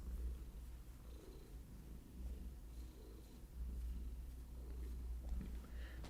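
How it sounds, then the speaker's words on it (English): Domestic cat purring close to a microphone, a faint continuous low rumbling purr with a steady pulsing rhythm, heard alone without talk. "Cat purring ASMR."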